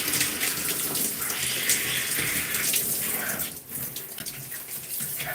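Water from a tap runs steadily while hair is rinsed, a loud close splashing gush that dips briefly midway, then resumes.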